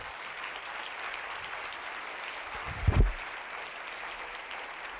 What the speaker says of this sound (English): Can we give a big round of applause to them